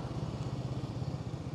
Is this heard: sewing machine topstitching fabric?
no